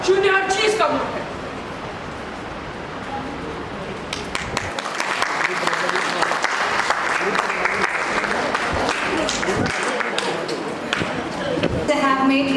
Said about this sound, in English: Can we have a big round of applause for the presentation?